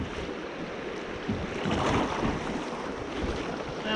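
A kayak runs through small rapids on the Cannon River in Minnesota, with a steady broadband rush of churning water and wind buffeting that swells around the middle and stays loud throughout, no talking.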